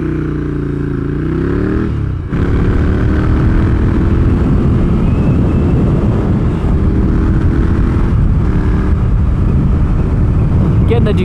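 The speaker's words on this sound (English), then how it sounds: "Getting the Ducati on the highway here," A Ducati Scrambler motorcycle cruises on a highway, its engine a steady loud drone mixed with heavy wind rush, with a brief dip and rising pitch as gears change, close and continuous throughout.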